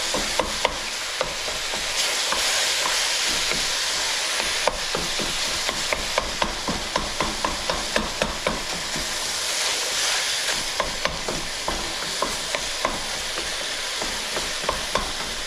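Browned ground beef with onions and garlic stirred in a hot pan for a quick weeknight chili: continuous close sizzling and hiss with rapid, regular scraping and clicking of a utensil against the pan, no voices.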